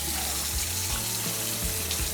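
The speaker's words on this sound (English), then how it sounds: "First, wash your hands" Tap water running in a kitchen sink as hands are washed before cooking steak, a steady loud rushing hiss close by with a few soft splashing bumps.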